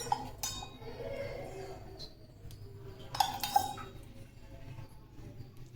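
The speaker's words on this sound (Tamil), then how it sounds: "இது தாளிக்கிறதுக்கு கடாயில் எண்ணெய் ஊற்றிக்கலாம்." A metal kadai on a kitchen stove is handled while oil is poured in for tempering, giving a few soft clinks and knocks of metal over a low background hum.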